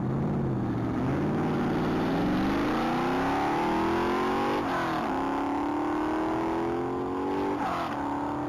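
A 2000 Chevrolet Corvette accelerates hard at a Texas Mile top-speed event, its loud engine climbing through several gear changes with rising, sweeping pitch, close and continuous with no talk.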